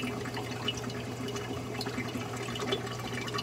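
Water gurgles steadily from the return pipe of a Clear Water Scrubbers CW-50 algae scrubber with a suction fault, as a continuous bubbling, sloshing flow close by with no talk over it.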